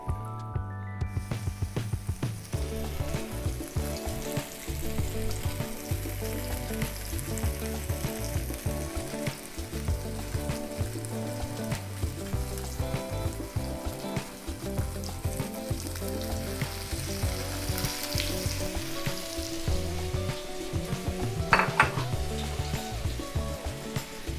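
Blackened Cajun-spiced salmon sizzling in a hot pan, a constant close frying hiss with crackles over a steady low hum, lasting over twenty seconds, with a brief sharp clink near the end.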